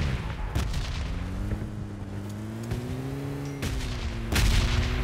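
Scattered shots crack from a shooting video game, one early and another near the end, over a steady engine-like drone in the background.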